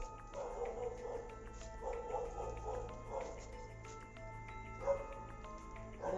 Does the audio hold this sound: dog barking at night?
yes